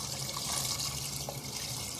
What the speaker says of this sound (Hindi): मैं ऊपर का सिर्फ पानी लूँगी छन्नी से छान के